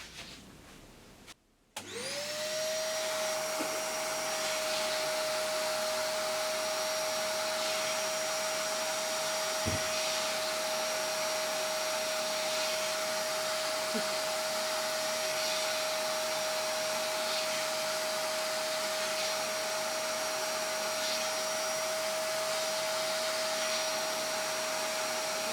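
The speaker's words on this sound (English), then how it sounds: "So I'm going to turn the vacuum cleaner on" A vacuum cleaner switches on after a brief click and runs continuously, powering a small bellows engine, with a loud steady whine and a faint rhythmic ticking from the mechanism beneath it.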